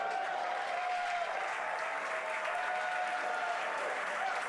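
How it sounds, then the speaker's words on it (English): Crowd at SpaceX Mission Control in Hawthorne cheering and clapping during a Falcon 9 landing, a steady wash of applause and cheers, fairly faint and heard as if from a distance. "Crowds cheering here at SpaceX Mission Control Hawthorne as we tune in to see if we stick the landing."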